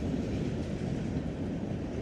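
A long freight train of nearly 800 axles rolling past at Crofton, Kentucky, a loud, steady, close rumble of wheels and cars with faint rhythmic clatter throughout.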